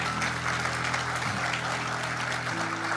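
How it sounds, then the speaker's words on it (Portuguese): A church congregation claps together for Jesus during a service led by Pastor Marco Feliciano, dense sustained applause with low sustained instrumental tones underneath. "quem pode dar a Jesus uma salva de palmas?"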